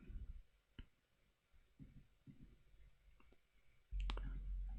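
A few faint, sharp mouse clicks on a browser link, isolated and quiet against low room noise, ending in a louder burst of rumble.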